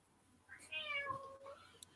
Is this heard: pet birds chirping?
no